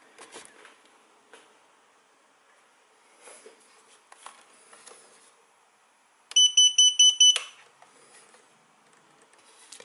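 A BFight 210 quadcopter's beeper sounds a quick burst of about five shrill, evenly spaced electronic chirps, loud and close, amid faint clicks and handling noise.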